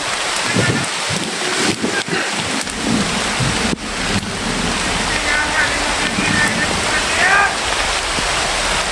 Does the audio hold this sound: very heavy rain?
yes